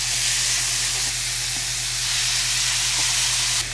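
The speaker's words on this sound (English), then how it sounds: "gonna sear them breast side down to start out with" Duck breasts sear breast side down in butter in a hot pan, giving a steady, loud broadband sizzle with faint crackles throughout, with no talking.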